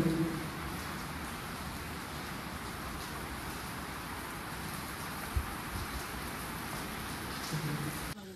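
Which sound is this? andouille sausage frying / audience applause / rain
rain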